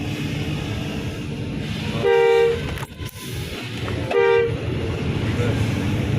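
A bus telolet horn sounds on a road trip along the Morowali route, giving two loud, near musical blasts, the second shorter, over a constant drone of engine and road noise.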